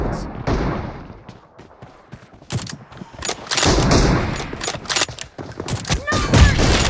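Rapid bursts of gunfire and heavy thumping shots in the BGMI mobile battle game, a 4 vs 4 match, crackle loudly and irregularly over several seconds alongside an excited announcer voice.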